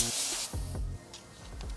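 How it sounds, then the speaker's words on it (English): A short hissing burst of water sprayed onto window tint film on a Lexus TX350, followed by quieter handling noises and a few soft clicks. "So we're just gonna spray our film"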